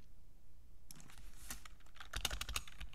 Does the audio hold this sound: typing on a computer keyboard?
yes